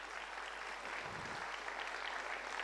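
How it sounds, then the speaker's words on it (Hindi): Audience applause at a medical wing session on holistic antenatal care, a soft, distant wash of clapping that swells slightly midway and continues steadily. "तो जोरदार तालियां खुद के लिए बजाइए।"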